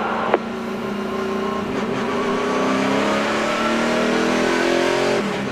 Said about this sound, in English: Going back from red to yellow flag conditions as the trucks make their way back out onto the racetrack